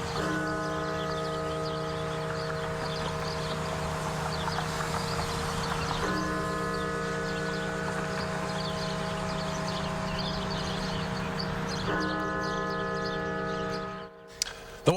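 The bell of Washington National Cathedral rings in slow, evenly spaced strikes about six seconds apart, each leaving a long resonant hum that decays before the next, loud and clear with no talking.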